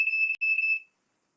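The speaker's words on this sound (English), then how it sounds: "smoke alarm's going off, and I have no idea why" A household smoke alarm sounds indoors with two loud, shrill electronic beeps, the second one longer, separated by a brief gap and then followed by silence.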